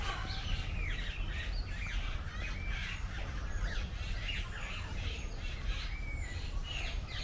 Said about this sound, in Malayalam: കിളികളൊക്കെ ഉണ്ട്